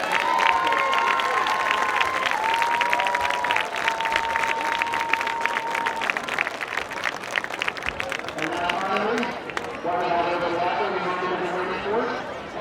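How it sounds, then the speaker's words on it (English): Crowd at a 2016 high school homecoming football game applauding and cheering steadily, a dense wash of clapping heard from the stands with whistles and shouts rising over it throughout. "Ladies and gentlemen, applause for the 2016 Homecoming Tour."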